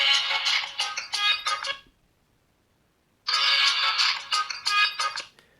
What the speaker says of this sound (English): I'll just demonstrate to you the ringtone volume isn't very loud